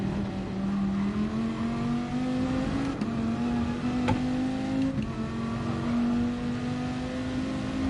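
Car engine in a racing video game holds a steady, slowly climbing drone as if revving through a gear, loud and continuous with a few faint clicks, no voices.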